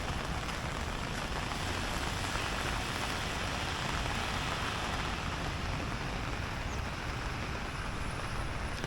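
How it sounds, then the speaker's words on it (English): Heavy rain pours steadily onto a New York City street along 1st Avenue in the early morning, a dense, unbroken hiss of drops spattering on pavement without any voices. "I thought I would show you New York City in the pouring rain."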